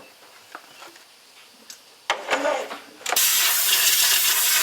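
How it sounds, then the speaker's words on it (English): An air hose blasts out a used Chevy small-block cylinder head, starting with a few faint clicks and short puffs before a loud hiss bursts in, then settles into a sustained, close rushing blast of compressed air. "I'm just going to blow everything out with air hose"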